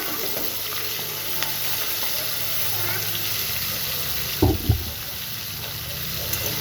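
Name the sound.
potatoes added to a pan, frying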